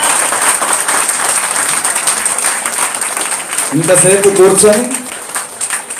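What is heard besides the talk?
audience applause at temple ceremony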